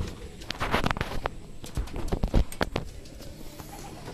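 Pigeons flutter and shuffle close by, with sharp clicks and taps of feet and wings and low cooing in the background.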